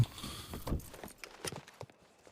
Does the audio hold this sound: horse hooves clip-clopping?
yes